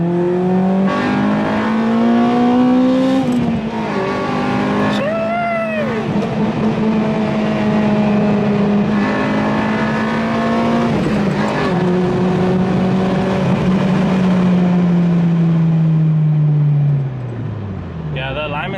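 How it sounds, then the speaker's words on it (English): An Acura RSX Type S pulls hard in second gear, its engine note climbing steadily and loudly from close by, with the driver talking over the roar before the revs drop off at the end. "At least the car sounds good. I'll give you guys a proper pull right now. Second gear."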